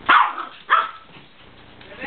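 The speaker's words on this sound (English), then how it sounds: "Oh, look at this dog." Chihuahua barking, two sharp close yips about half a second apart followed by faint low rustling and quiet background noise.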